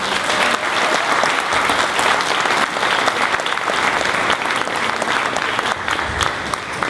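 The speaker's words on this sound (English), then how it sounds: "Let's give them all a big round of applause." Audience applause fills a hall at an evening community program hosted by a Chabad center, a dense, steady roar of clapping hands lasting the whole stretch without pause, loud and close.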